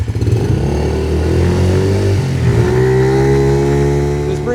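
A motorcycle rides and accelerates close by, its mid-pitched engine rising steadily in a loud, continuous roar with audible gear shifts and no talk over it.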